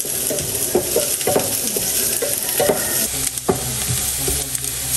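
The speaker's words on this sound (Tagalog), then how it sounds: "Magigisa na po ako ng luya, sibuyas," Ginger, onion and garlic sauté in a pan, loud close sizzling broken by repeated scraping stirs and utensil knocks against the pan.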